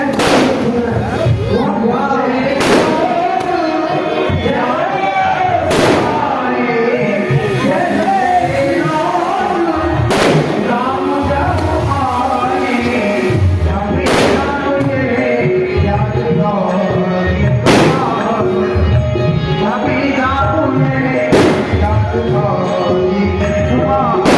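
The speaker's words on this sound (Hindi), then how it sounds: "पटाखे जला रहे हैं" Firecrackers set off at a traditional Ramleela celebration in Patna crack sharply every few seconds, loud over continuous festive music and crowd noise.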